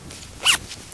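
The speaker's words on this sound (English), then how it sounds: "Zips up, keeps it all nice and secure." A zipper on an Eddie Bauer Sandstone soft shell jacket is pulled up in one quick, close rasp, followed by a faint second zip sound at the very end.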